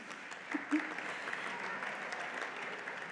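Gala audience at a college foundation event gives faint, steady applause, distant clapping with a couple of brief louder accents early on.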